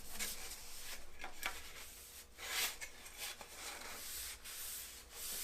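A rag wipes an airplane part down with lacquer thinner during homebuilt Zenith 701 aircraft construction, giving soft, close rubbing strokes in uneven bursts with brief pauses.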